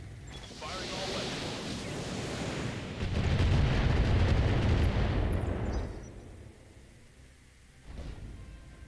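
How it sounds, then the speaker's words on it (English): Mech weapons firing and explosions in the BattleTech video game: a rumbling barrage swells into a heavy booming blast mid-clip, fades to a low roar, then one more thud near the end. "Firing all weapons."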